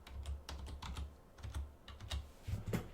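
Keys clack on a computer keyboard in a quick, uneven run of taps, close but quiet, with no voices.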